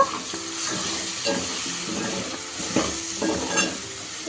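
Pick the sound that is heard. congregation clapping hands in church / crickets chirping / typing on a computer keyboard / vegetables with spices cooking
vegetables with spices cooking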